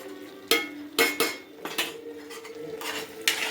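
A spoon scrapes and knocks against a pan as jam is mixed with chopped cashews and dates, giving several sharp metallic clinks followed by softer scraping strokes, close and loud, with no talking.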